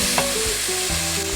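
Carrots and potatoes stir-frying in a hot pan, a loud, close, continuous sizzle with quick scraping stirs, alone with no talk.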